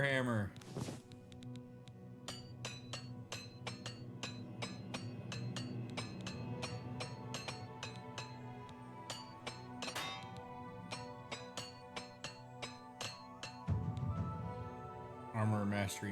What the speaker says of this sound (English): All right, repair hammer.